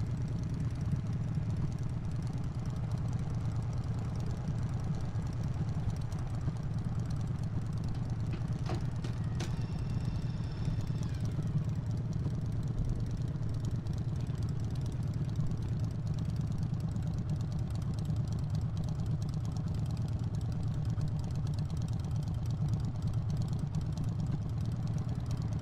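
A Harley motorcycle engine idles steadily after a throttle cable failure, a continuous low rumble that holds for the whole stretch with a brief clatter partway through and no speech.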